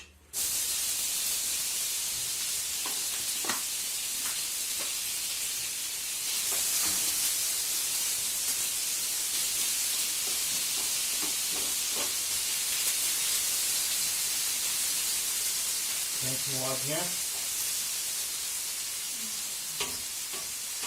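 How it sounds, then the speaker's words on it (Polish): Continuous sizzling hiss of melted lard frying in a pan, steady and close, with occasional stirring scrapes and a brief spoken remark. "No i smażymy."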